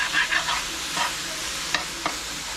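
Food cooking in butter in a pan on the stove, with steady soft sizzling and a few stirring scrapes and clicks close by, no talking.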